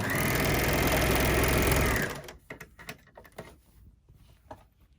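An overlocker chains out thread from a cosmetic bag in a dense, steady whir for about two seconds, then stops abruptly, leaving scattered soft clicks and handling noises.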